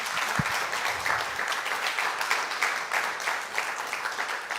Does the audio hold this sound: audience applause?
yes